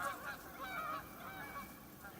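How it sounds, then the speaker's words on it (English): Canada geese honking in winter in central New York, a distant chorus of overlapping honks heard continuously from a walk through a food forest. "Canada geese."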